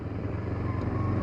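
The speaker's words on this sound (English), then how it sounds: "I think that the stock exhaust sounds awesome" A 2011 Kawasaki Ninja 250R with its stock exhaust gives off a steady, close, droning engine rumble without any noticeable rev change.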